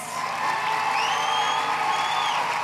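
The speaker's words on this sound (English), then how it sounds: "Can we give our graduates another round of applause?" Audience at a nursing school graduation investiture ceremony applauds and cheers the graduates, a steady, dense wash of clapping with whoops and whistles rising over it, loud and sustained throughout.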